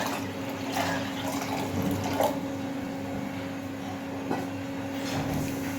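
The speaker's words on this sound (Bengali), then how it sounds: "এর মধ্যে আমি আরও কিছুটা জল দিয়ে দিচ্ছি।" Water pours into a cooking pot for vegetarian bhog khichuri, a steady close splashing rush that runs the whole time without talk.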